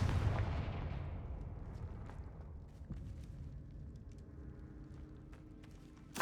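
Confringo fire spell from Hogwarts Legacy bursting in a fiery explosion, a faint blast at the start that trails into a long, soft crackling rumble and scattered debris.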